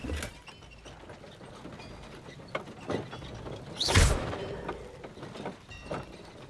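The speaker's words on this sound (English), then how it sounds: "The carts are returning to Arn." Mine carts roll along rails in Hogwarts Legacy, a steady low mechanical rumble and clatter with scattered clicks and one louder clanking burst near the middle.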